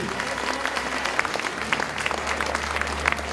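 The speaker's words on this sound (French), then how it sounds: "ça s'applaudit encore plus fort que ça, mesdames et messieurs" Dense audience applause with scattered sharp claps, steady and loud throughout, as an athlete is introduced before a crowd at a French presentation event.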